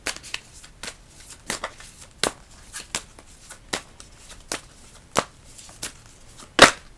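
Tarot cards shuffled by hand, a run of crisp riffling flicks and snaps spaced irregularly across the clip, ending in one louder sharp card slap, close and alone with no talking.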